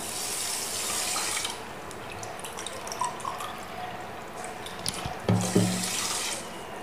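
Water poured from a tap into a vessel for sugar syrup for gulab jamun, a steady close splashing stream with a few louder drips and clinks toward the end, no talking.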